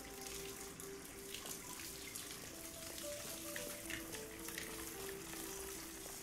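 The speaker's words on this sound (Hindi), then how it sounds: "कैसे बह रहा है भाई पानी।" A tap runs steadily in the Hitman video game, a faint, even hiss of flowing water that lasts throughout with no voices.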